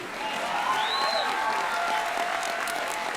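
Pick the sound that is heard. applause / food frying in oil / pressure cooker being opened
applause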